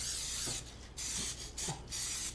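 Three short bursts of canola oil cooking spray hiss close by into a pan, each about half a second long, separated by brief pauses.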